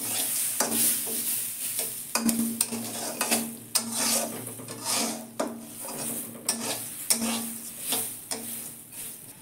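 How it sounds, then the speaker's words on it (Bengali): Arhar and mung dal frying together in a pan, a steady dry rasping sizzle broken by repeated scraping stirs, close and moderately loud with no talking. "দুটো ডালই একসঙ্গে ভেজে নেব।"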